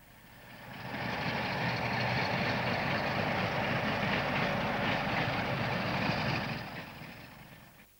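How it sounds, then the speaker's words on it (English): A loaded oil train rumbles past the disused Warsop station on the main line, a steady broadband roar of wheels and engine that swells in after a second, holds close and loud, then fades away at the end. "On the main line, the oil train passes the former Warsop station"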